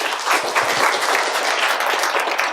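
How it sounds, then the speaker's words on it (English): Sustained audience applause at a time-management seminar, many hands clapping steadily and fairly close, with no talking over it. "Round of applause"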